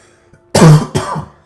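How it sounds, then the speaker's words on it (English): Two sharp, loud coughs close up, one right after the other, with a brief pause between them. "I just been having a little cough"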